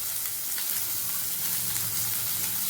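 Vegetables for sambar sautéing in a pan over low heat with a little salt, a continuous close sizzle and crackle holding steady at moderate loudness with no voices.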